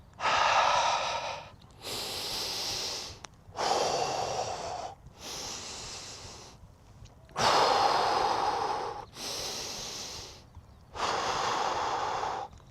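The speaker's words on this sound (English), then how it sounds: "So you take big exhales, out through the mouth, in through the nose." Deep breathing during uphill running: big forceful exhales out through the mouth alternate with inhales through the nose, about seven loud, close breath sounds in an even rhythm with short pauses between.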